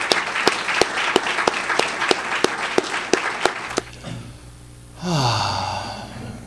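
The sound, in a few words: audience applause for a Hall of Fame inductee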